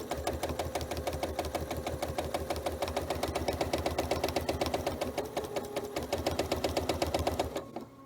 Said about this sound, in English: now I'm just going to follow along, stitching in the ditch